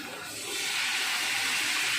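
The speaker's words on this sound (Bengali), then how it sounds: "একটুখানি গরম জল দিলাম, গরম জল দিয়ে একটুখানি করতে" Hot water poured into a pan of vegetarian potato curry as it cooks, a steady hissing, rushing pour that swells after the first moment and continues close and fairly loud.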